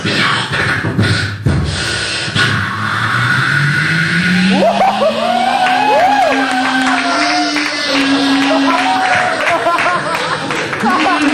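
A voice imitating a vacuum cleaner: a whirring tone that rises steadily in pitch as if spinning up, then holds with wavering overtones, following a brief burst of crowd noise at the start.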